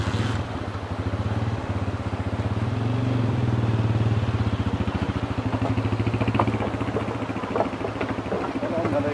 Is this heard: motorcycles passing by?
yes